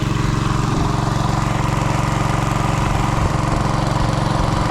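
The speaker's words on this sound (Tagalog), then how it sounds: "Sa bagay, water pump na yan." An engine-driven water pump, with sand still inside, runs loudly and close by in a steady, even chugging drone that holds throughout without pause.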